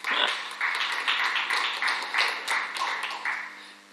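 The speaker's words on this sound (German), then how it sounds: "Kleiner Applaus für Vera." A small audience at a Swiss civic-tech congress applauds a speaker, giving a steady, fairly loud patter of clapping that swells in rhythmic waves for a few seconds, with no talking over it.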